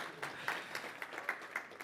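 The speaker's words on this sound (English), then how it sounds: "little round of applause" A brief, quiet round of applause from a games festival audience, a soft wash of clapping with a few louder claps poking through, heard at some distance and blending with the room.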